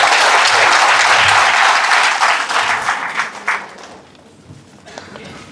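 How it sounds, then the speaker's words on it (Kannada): A loud burst of applause from the audience at a scholarship distribution ceremony organised by a charitable trust, dense clapping that holds for about three seconds and then fades to scattered claps. "ಅವ್ರಿಗೆಲ್ಲರಿಗೂ ಜೋರಾದ ಚಪ್ಪಾಳೆ ಇದೆ"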